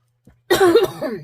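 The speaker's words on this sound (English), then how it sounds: "Sorry, I still got this cough." A single harsh cough bursts out close by, followed by a short rasping throat-clearing tail, with a faint click just before it.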